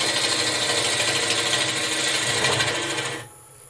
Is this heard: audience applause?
no